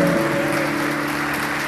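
Applause from an audience at a cultural stage show, a steady dense wash of clapping filling the whole moment, with faint tonal hum underneath and no talking.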